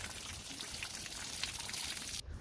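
Water pours steadily into something while working on a fixer-upper RV or trailer, a continuous close splashing flow that stops abruptly near the end.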